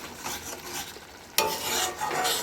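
A red chicken curry is stirred in a pot, making wet scraping and swishing sounds over a low simmer, with a louder burst of stirring midway.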